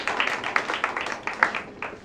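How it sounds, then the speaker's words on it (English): Applause from an improv comedy audience in a theatre as the improvisers are called onto the stage, a dense patter of claps at moderate level throughout, without pause. "Huge round of applause for them."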